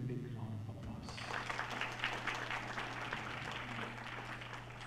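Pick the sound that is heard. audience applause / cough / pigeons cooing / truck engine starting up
audience applause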